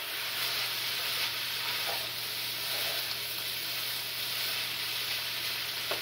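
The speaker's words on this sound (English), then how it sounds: "I like that frying sound." Rice frying in a pan while being stirred: a steady, close sizzle runs throughout, with occasional soft scraping stirs, no voices.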